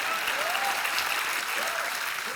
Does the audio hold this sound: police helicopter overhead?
no